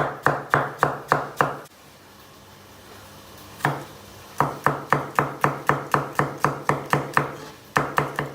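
A knife finely chops peeled tomatoes steadily on a cutting board in quick, even bursts of knocks, pausing briefly before resuming at the same brisk rhythm.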